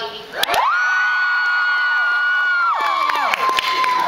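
Audience at a Comic-Con convention panel screaming and cheering, one loud, sustained high shriek rising out of a steady wash of crowd noise.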